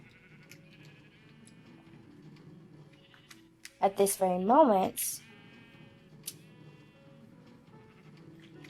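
A short burst of Minecraft sheep bleating, a couple of wavering cries close together, rising over quiet background noise while someone talks before and after.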